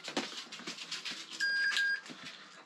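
A multimeter set to continuity mode gives a short steady electronic beep lasting about half a second, during heated grip repair work on a BMW R1200 motorcycle, with faint clicks and handling noises around it.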